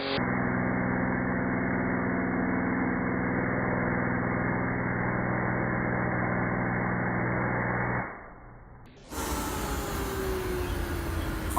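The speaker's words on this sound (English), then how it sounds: "as my compressor charges up" An air compressor charges up with a steady, humming motor drone, cuts out briefly, then resumes with a louder, hissier roar.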